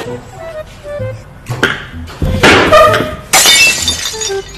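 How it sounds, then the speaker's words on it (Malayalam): A drinking glass falls and shatters indoors: a few sharp crashes with bright tinkling fragments, loud and close, separated by brief quieter gaps. "ഒരു ഗ്ലാസ് വീണ് പൊടിഞ്ഞതാ"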